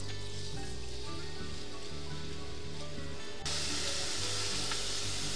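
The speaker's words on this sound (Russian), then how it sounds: "И последним обжариваю картофель." Potatoes fry in hot fat in a pan for a salad, giving a steady rain-like sizzle that jumps louder and brighter midway, heard close with a faint low hum beneath and no speech.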